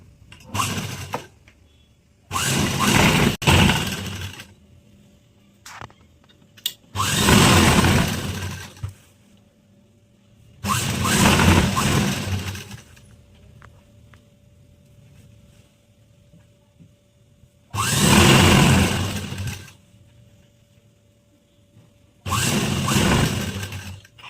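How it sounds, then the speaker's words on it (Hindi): A sewing machine stitches a half-inch seam on a circular umbrella plazo in several loud bursts of a few seconds each, separated by quiet pauses and soft handling of fabric. "इस पर 1/2 इंच की सिलाई लगाते हुए इसे कंप्लीट करेंगे"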